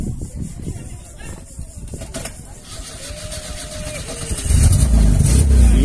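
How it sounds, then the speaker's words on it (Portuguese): A VW Gol with a 1.8 turbo engine is cranked via a push start button and fires up, rising into a loud, steady idle in the final seconds after a stretch of nearby chatter and movement. "liga no start aqui, ó, botãozinho de partida"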